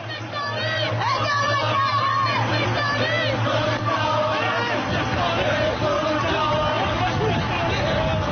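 A dense crowd in a street in Najaf during the 2004 battle: loud, continuous shouting and chanting from many voices, close and overlapping, with a low rumble underneath that drops out partway through.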